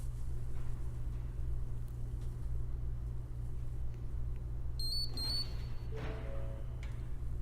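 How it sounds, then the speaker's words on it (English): Over a steady low engine rumble of a 2016 Ford Explorer, two short high electronic unlock confirmation beeps from the remote sound in quick succession, followed by a faint lower chirp. "Pressing the unlock button will unlock the doors with 2 confirmation beeps"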